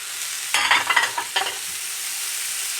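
Cauliflower florets are stirred in a frying pan during a zucchini and vegetable sauté, with a short burst of scraping and sizzling about half a second in that fades after a second, then quiet.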